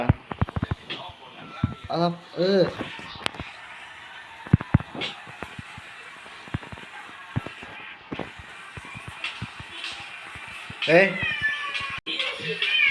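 Pet cat in Minecraft meowing several times in short game-style calls, mixed with other game sounds and a person talking over it.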